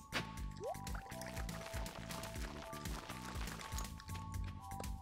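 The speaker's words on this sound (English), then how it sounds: "I'm gonna have to water them." Watering crops with a watering can in Stardew Valley on the first day of summer: repeated soft watery splashes and pours set against steady looping game music.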